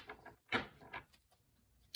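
Oracle cards are tapped and straightened into a deck after shuffling: a few quiet, close papery knocks and scuffs, with the sharpest tap about halfway through, then near silence.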